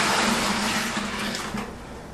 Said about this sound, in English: very carefully I'm going to take my wort and I'm going to pour it in the bucket